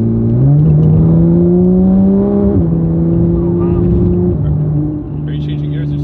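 A powerful supercar engine with a stock exhaust roars under acceleration, its pitch climbing then dropping sharply with quick manual gear shifts, loud and close from inside the cabin.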